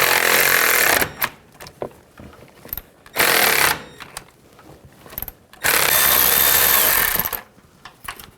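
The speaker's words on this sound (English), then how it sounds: "Take that bolt out." A 10mm socket loosening a bolt on a brake hose bracket of a 2006-10 Mercury Mountaineer, heard as three loud bursts of power-tool whirring separated by short pauses and small clicks.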